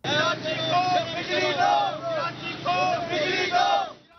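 Protesters outside the K-Electric office in Karachi shout slogans in unison. The loud, close call-and-response chant repeats in steady rhythmic waves and fades out at the end.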